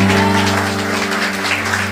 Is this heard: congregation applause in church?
yes